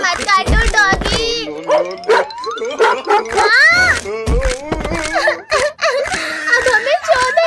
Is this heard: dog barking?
yes